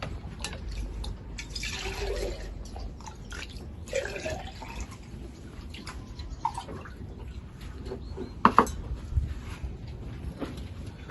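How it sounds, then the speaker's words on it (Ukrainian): Water splashing and trickling into a container at a farmstead, with a steady low wash and a few sharper drips and knocks near the end; no talking. "зараз набираю води"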